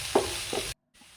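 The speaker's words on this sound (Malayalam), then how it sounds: "ഒരു 3 മിനിറ്റ് നേരം ഇവയെല്ലാം കൂടി ഒന്നുകൂടി വഴറ്റുക" Onion and mixed vegetables sauté in a pan for egg rice, giving a brief close sizzle with a couple of stirring scrapes. It cuts off abruptly into near silence, followed by a faint tail.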